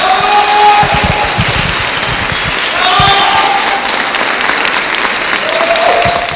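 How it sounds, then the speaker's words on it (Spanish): Sustained, loud audience applause welcomes a speaker onto the stage at a business talk on market trends, steady clapping throughout with a few voices calling out over it. "Recibamos con un fuerte aplauso"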